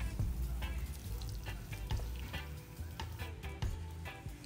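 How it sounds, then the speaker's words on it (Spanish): Plantain fries in a pan with a close, steady sizzle and soft crackling pops, with occasional stirring clicks and no voices. "después pasamos a freír nuestro plátano para servirlo ya"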